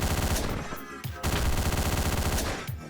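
Loud, rapid assault rifle fire from the top-down action game Hotline Miami, sustained bursts broken by brief gaps, with no talking.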